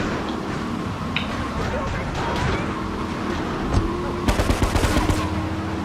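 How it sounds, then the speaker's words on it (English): Gunfire during a GTA 3 mission, mostly scattered shots under a busy background, then a quick run of sharp automatic bursts near the end, with a voice talking over it. "They're already shooting me."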